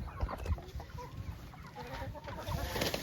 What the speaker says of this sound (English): they're a noisy bunch of birds